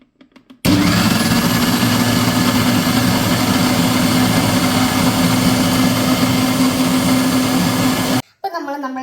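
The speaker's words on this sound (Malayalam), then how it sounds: "ഇനി ഇതെല്ലാം നന്നായിട്ട് മിക്സിന്റെ ജാറിലിട്ടൊന്ന് അടിച്ചെടുക്കാം" A mixer grinder blends mango, sugar and milk in its jar with a loud, steady whirring roar that starts abruptly and holds for about seven seconds. The roar cuts off sharply, followed by a few faint handling clicks.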